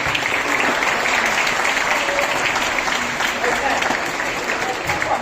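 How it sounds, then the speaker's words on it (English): Steady, full applause from a crowd clapping continuously throughout, fairly loud and close. "Give him a round of applause"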